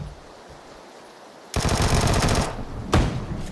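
Vector submachine gun fire in PUBG: after a quiet moment, a loud rapid burst lasting about a second, then a shorter second burst close behind.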